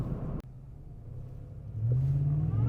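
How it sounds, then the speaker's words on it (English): A 700 hp 6.2L Ford Raptor truck with traction control off revs and pulls hard as its wheels spin, a deep droning engine rumble that swells louder toward the end after a sharp click at the start. "Let's just do one pull without the traction to see if it still wheel hops like that."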